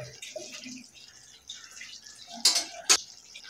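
Water poured into a pan of cooking potatoes and fenugreek leaves, a few short splashy pours with two sharper bursts of splashing toward the end, close and fairly quiet.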